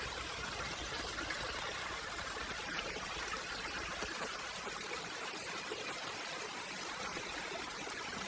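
A small waterfall at a wildflower preserve rushes and splashes steadily, a dense continuous stream of water noise close by with no break.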